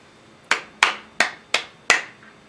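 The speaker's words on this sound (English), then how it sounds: "Slow clap, actually." Five sharp single hand claps, spaced evenly and slowly about a third of a second apart, each ringing briefly in a small room, close and loud with no other sound.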